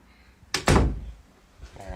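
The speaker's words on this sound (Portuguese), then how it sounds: "Look, let me close this door." An interior door swings shut with a solid thunk that follows a quick brushing sound, loud and close, after which a voice murmurs faintly nearby.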